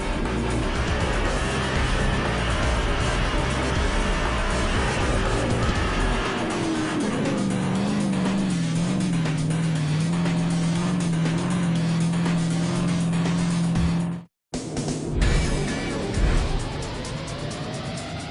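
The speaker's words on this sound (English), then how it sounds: "Final 4 laps of action as round 6 of the Speed Energy Stadium Super Trucks presented by Traxxas unfolds today" Stadium Super Trucks race on the Long Beach street circuit in 2015: a steady, loud engine roar holds and shifts pitch, drops out briefly, then returns.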